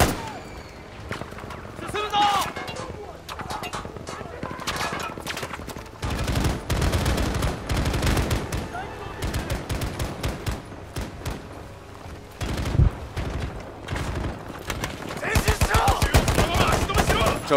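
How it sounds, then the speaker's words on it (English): Gunfire during a Battlefield 5 Pacific Front milsim event, irregular bursts of rifle and machine-gun shots near and far, with louder volleys mid-way and toward the end, under occasional talk. "I'm still hearing shots."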